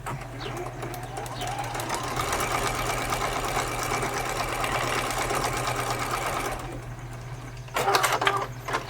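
A sewing machine hums steadily and close while stitching quilt sashing, running for about six and a half seconds before it stops. A brief, different rattle follows near the end.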